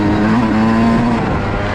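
A Yamaha YZ125 race engine motorcycle howls at high revs, a loud, close, steady two-stroke drone with no talking.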